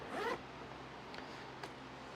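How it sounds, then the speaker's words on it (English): A zipper on a tool bag pulled in one short, quick zip, close and clear, followed by a quiet room with faint handling clicks. "and it's got dual zipper on the back."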